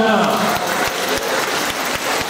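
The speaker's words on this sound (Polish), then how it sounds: "Wielkie brawa dla Tymona!" Applause at a church carol concert inside a parish church, a dense wash of clapping from the congregation filling the space, steady and fairly loud with a few sharper knocks underneath.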